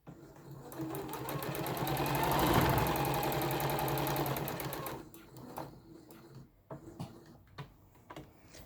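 A sewing machine stitches fabric for a window face mask, a steady whirring run that swells and then stops around the midpoint, followed by quieter handling clicks and rustles of fabric.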